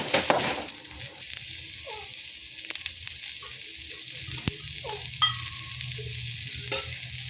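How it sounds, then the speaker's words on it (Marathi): Onion and garlic frying in oil in a pan until golden, a steady close sizzle with occasional stirring scrapes and light knocks, no voices. "कांदा लसूण आपण गोल्डन फ्राय होईपर्यंत भाजून घेऊया."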